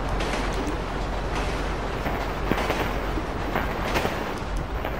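Train rolling along rails in a video game during a Brazilian multiplayer session, a steady dense rumble with rattling clatter throughout, close and continuous with no talk.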